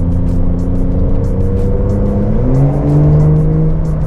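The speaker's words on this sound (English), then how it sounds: "God, this car sounds freaking amazing." A sports car engine revs up at a service visit, loud and close, with its pitch sweeping up and down across a few seconds in a smooth, powerful roar.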